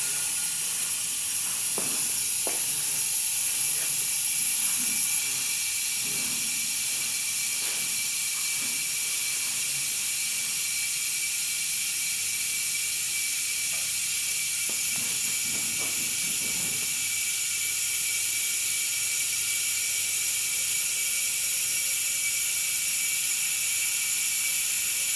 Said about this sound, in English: There's that fuel pump.